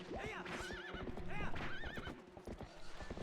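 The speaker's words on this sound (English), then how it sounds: "Get off the horse!" A horse in the video game Twilight Princess HD whinnies loudly several times over quick clip-clopping hooves, with a wavering, high-pitched neigh repeating through the first two seconds.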